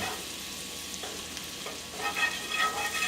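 Butter and garlic sizzle in a skillet with a steady crackling hiss that grows louder and busier partway through as the pan is stirred, close and continuous with no voices.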